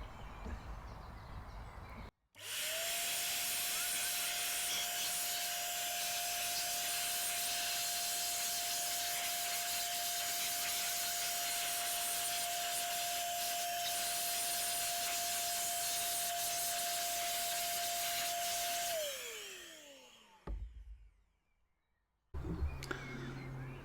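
Compressed air blasts dust off a fan outdoors, a loud roaring hiss lasting about sixteen seconds with a steady whine from the spinning blades that falls away as the airflow stops.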